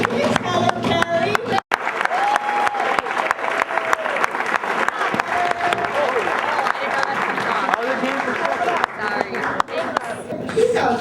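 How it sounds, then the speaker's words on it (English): A crowd at the 2008 Western Regional Barista Competition awards in Berkeley, California gives loud, sustained applause mixed with cheering and chatter. An amplified voice speaks over the clapping throughout. "One more big round of applause."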